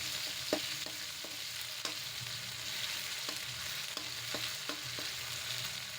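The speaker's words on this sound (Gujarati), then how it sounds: "ને આને હું 1 મિનિટ માટે સાતળી લઈશ." Ginger-chili paste sautéing in a pan with cumin already tempered in hot oil, giving a steady close sizzle with scattered sharp scraping clicks of a spoon stirring, no voices.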